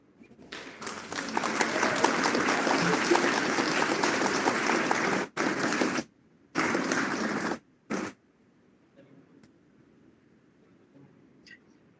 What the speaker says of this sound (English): Please give a big round of applause for all teachers present here.